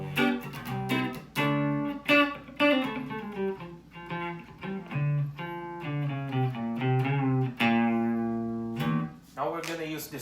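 A Mexican-made upgraded Stratocaster electric guitar plays clean on its neck pickup, with close, clear notes and chords struck in phrases that ring out and decay, leaving short gaps between them.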